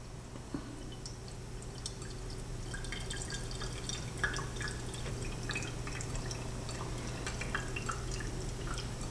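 Brewed coffee drips slowly from an upturned Aeropress, a few faint, scattered drops ticking over a steady low room hum.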